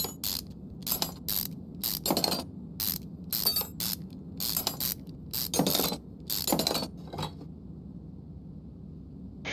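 Repeated ratchet clicks and bursts of bolt removal from a virtual mechanic game set in a car workshop, during a 2003 Ribbsan Z530 engine rebuild in Car Mechanic Simulator 2021, a quick run of rattling mechanical ratcheting with short gaps, fairly loud and close.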